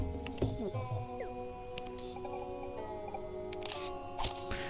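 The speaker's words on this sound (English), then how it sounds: "we can take a picture of the goats now" A camera shutter clicks once in the video game Toem while snapping a photo of goats, a crisp mechanical snap over soft chiming game music and ambient tones.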